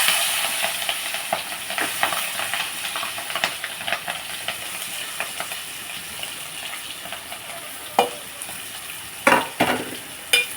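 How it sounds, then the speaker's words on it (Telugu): Chopped onions and green chillies fry in a pan after eggs are taken out for an egg and capsicum curry: a continuous hissing sizzle, with a few sharp clatters of a spoon near the end. "గుడ్లు తీసేసుకుని మనం ఇప్పుడు ఉల్లిపాయలు పచ్చిమిరపాయలు వేసేస్తున్నాం"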